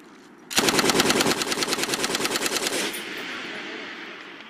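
An M240L machine gun fires one sustained burst of rapid, evenly spaced rounds at close range during army team training, loud and alone for about two seconds before fading into echo.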